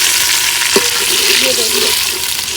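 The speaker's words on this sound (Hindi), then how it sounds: "प्याज जो है ना मुझे अंदाज़ा ही नहीं था इतनी जल्दी फ्राई हो जाएंगे।" Onions frying in a pan at home in a village kitchen make a steady close sizzle with a light stir or clink partway through.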